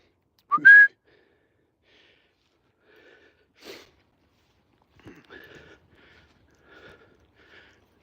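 A dog walker's sharp whistle calling terriers back on a cold outdoor walk: one loud, rising blast near the start, then a few faint, scattered sounds and quiet gaps.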